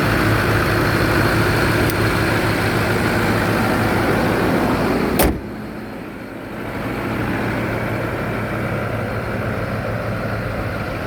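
A 2008 Ford F550 truck's engine runs after a cold start with a steady, loud, close rumble. One sharp knock cuts in midway, then the engine settles into a slightly quieter idle.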